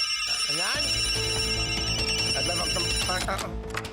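Cartoon telephone ringing in steady repeated bell bursts, loud and close, over a bed of background music throughout.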